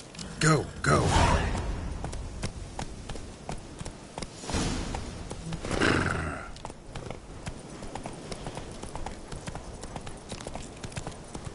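A horse in The Witcher 3 gives a couple of loud neighs or snorts near the start and again midway, set against steady hoof clip-clops and quieter ambient movement.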